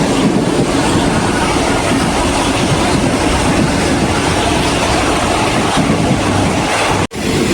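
Local train 447 on the Surat Thani–Sungai Kolok line rolls into Thung Song Junction station in Nakhon Si Thammarat, a loud, steady rumble of wheels and carriages with a clickety-clack rhythm, heard from on board, briefly cutting out near the end.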